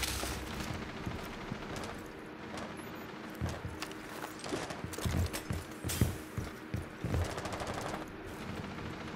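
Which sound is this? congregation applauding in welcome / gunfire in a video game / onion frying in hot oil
gunfire in a video game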